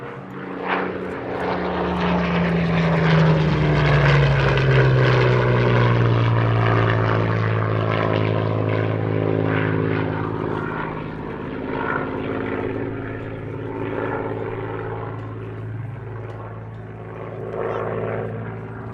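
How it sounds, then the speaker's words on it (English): A Hurricane Mark IIC warbird, PZ-865, makes a solo flyby at an airshow, its piston-propeller engine roaring loud and close with a falling Doppler pitch as it passes, then fading to a steady distant drone. "The BBMF's Hurricane Mark IIC PZ-865, the last Hurricane ever built, breaks off for a solo flyby."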